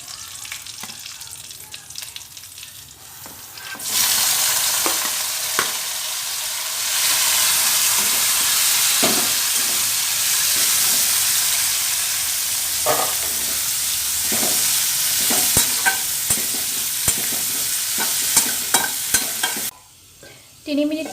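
Star fruit (kordoi) frying in hot oil for a fish curry: a loud, steady sizzle starts abruptly a few seconds in and holds, broken by the clink and scrape of stirring, then cuts off briefly near the end.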